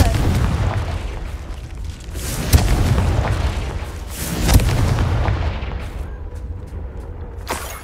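Confringo blasting spell in Hogwarts Legacy: two heavy, booming blasts land about two seconds apart, each one fading into a rumbling, crackling tail over a dense background of game ambience.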